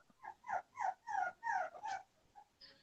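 A dog whimpers and cries in a run of about six drawn-out, high-pitched whines, each rising and falling, fairly close, with a fainter yelp at the end and no talking.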